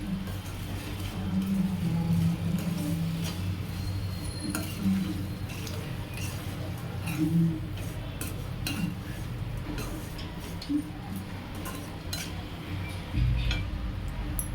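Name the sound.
stirring gongura curry in pot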